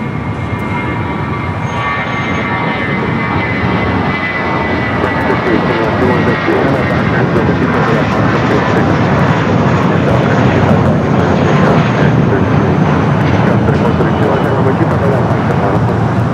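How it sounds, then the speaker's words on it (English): A heavy Boeing 767-300ER jet on arrival at Los Angeles LAX, an American flight from JFK, roars as a loud, continuous engine rumble that builds slightly and holds steady throughout. "American Delta flight 713 coming up from JFK, 767 at 300 ER, next heavy arrival"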